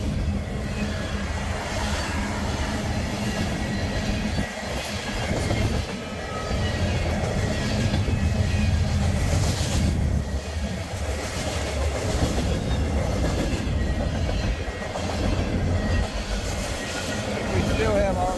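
A train passes through Berea, Ohio, in snowy winter weather, its heavy rumble and clickety-clack of wheels holding steady and loud throughout, with occasional voices faintly heard over the noise.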